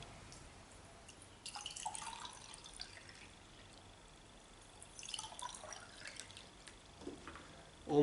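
Reverse osmosis water is poured onto about 200 grams of sea salt, giving faint, quiet trickling and splashing in two short bursts against a near-silent background.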